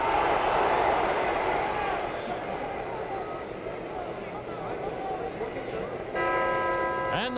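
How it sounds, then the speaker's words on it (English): A boxing ring bell rings at the end of the fifth round of a heavyweight bout, a bright metallic clang near the end, rising over steady crowd noise and a commentator's voice. "And the bell ends the 5th round."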